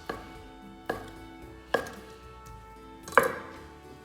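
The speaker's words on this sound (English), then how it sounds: "we just need to cut it into chunks" A knife chops a block of queso fresco into chunks on a kitchen board for taco salsa: four sharp, separate chops spaced about a second apart, close and clear with no talking.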